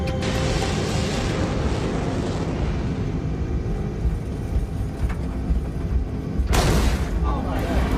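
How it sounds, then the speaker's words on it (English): A dull thud from outside a British Airtours airliner during its takeoff roll: a loud, sudden broadband bump breaks through the constant heavy roar of engines and runway rumble late in the stretch. "We heard a dull thud, which sounded as if it came from outside."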